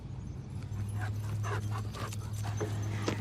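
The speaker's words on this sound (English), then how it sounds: "I'm outside playing with my dogs as they are wrestling." Dogs panting and scuffling as they wrestle outdoors, quick rhythmic breaths and bursts of shuffling close by over a steady low hum.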